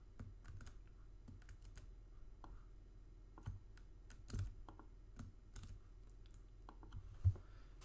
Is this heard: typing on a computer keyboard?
yes